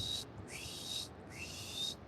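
An eagle gives two or three high, thin whistling calls beside a coastal creek, each a clear sustained note with a short slide at the start, separated by brief pauses over a soft low background hum.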